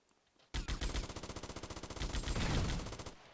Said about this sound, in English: They're going to start throwing grenades towards his direction now.